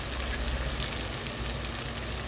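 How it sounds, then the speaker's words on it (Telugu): Sliced onions and mint leaves fry in hot oil for an Andhra-style brinjal curry, a loud, continuous, even sizzle close up with no voices. "అదే నూనెలో నేను ఉల్లిపాయలు వేస్తున్నాను"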